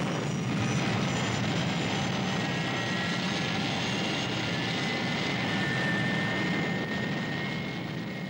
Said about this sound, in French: Nous sommes prêts à décoller.